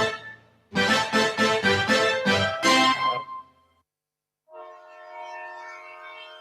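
A train sound effect in a Ghanaian radio station jingle, a loud rhythmic chugging of rapid bursts followed by a pause and a sustained horn-like whistle tone.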